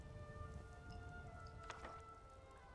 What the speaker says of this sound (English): Wait out this rain.